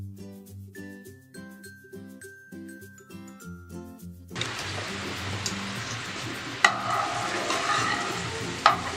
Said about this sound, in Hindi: हनी को ऐसे मीडियम फ्लेम पर ही थोड़ा पकाते जाएंगे।